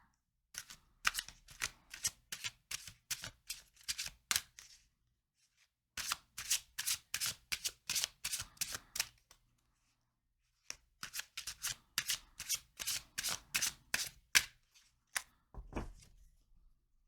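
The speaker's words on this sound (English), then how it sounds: "So let's get 2 tarot cards for this." Tarot cards being shuffled by hand in three long bursts of rapid riffling flutter, close and fairly quiet, separated by short silences, with no speech.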